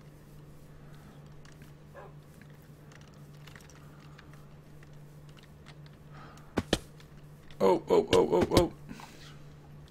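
A puppy in the game Minecraft gives a quick run of yips and barks near the end, after a few faint sounds over a steady low hum; a single short word is spoken.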